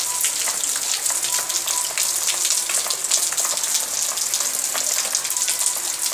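Raindrops patter steadily and densely on nearby surfaces during a daytime shower, close and fairly loud with many crisp individual drips over a continuous hiss, and no talking.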